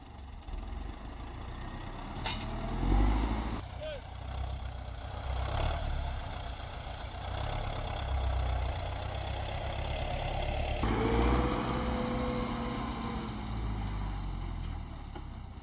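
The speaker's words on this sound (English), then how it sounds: "This is about a 105 horse tractor." About 105-horsepower farm tractor engine running while moving round hay bales, a steady mid-to-low rumble at moderate distance with shifting whine and occasional clunks.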